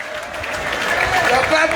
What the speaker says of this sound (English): I said, now you're clapping.